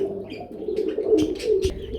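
A pigeon at a pigeon farm coos in a steady, fairly loud run of low throaty calls. Soft chirps and a few bumps sound around it, and nobody speaks.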